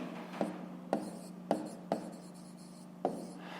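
Numbers being written by hand with a pen on paper, a quiet sequence of five short scratchy strokes at uneven intervals over a faint steady hum.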